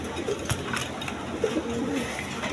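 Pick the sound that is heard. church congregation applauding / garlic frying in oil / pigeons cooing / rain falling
pigeons cooing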